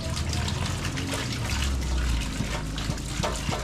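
Tap water runs and splashes while lapu-lapu fish is washed in a kitchen, a steady close trickle with gurgling and occasional handling knocks, no talk over it.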